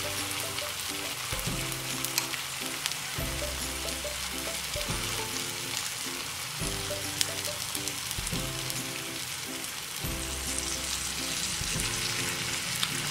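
Dosa batter topped with fruit mixture frying on a hot pan, giving a steady close sizzle with faint crackle throughout and no talk.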